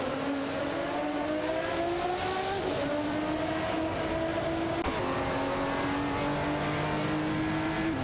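McLaren F1 GTR race cars in an AI racing video game, with a sustained, loud engine drone whose pitch climbs and shifts through gear changes, continuous and close throughout with no talking.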